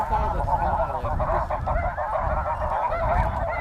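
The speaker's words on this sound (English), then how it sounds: "There's geese everywhere." A large flock of snow geese honks constantly and densely overhead during a conservation hunt, a loud, close chorus of overlapping calls with no break.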